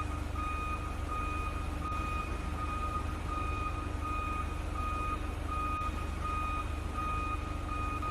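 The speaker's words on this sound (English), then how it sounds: "Then use reverse switch to reverse the forklift." Steady, repeated reversing beeps from a forklift in a virtual reality warehouse operator training simulation, sounding as evenly spaced tones over a constant low engine hum, close and loud throughout with no talk.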